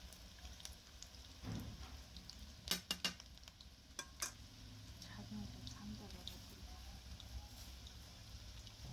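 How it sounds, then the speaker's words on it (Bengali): Chicken pakoras fry in hot oil in a home kitchen, a soft steady sizzle running under a voice, broken by a few sharp utensil clinks and scrapes against the pan. "এবারে দুই পাশ খুব ভালো করে ভেজে নেব।"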